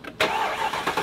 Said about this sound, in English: And we unlock it and start it up.